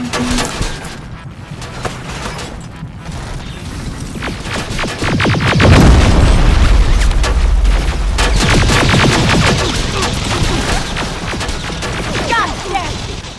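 Pipe bombs explode in the video game Terminator Resistance, booming heavily amid dense, continuous gunfire and crashing battle noise, loud and sustained throughout.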